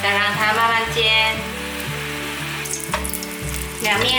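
Vegetable rolls sizzling slowly in a pan after being turned, a continuous close frying hiss with a few brief clinks, and no voices.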